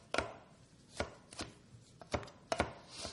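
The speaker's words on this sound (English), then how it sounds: "chop it not too fine, so that we get a cup of chopped basil." Knife chopping fresh basil leaves on a cutting board, five or six sharp, distinct thuds at an uneven, unhurried pace, close and clear with quiet gaps between cuts and no voices.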